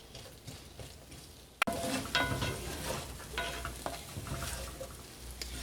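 Home-fried potatoes sizzle steadily in a pan at breakfast, with a sharp clatter as the spatula turns them partway through, followed by louder frying and scraping.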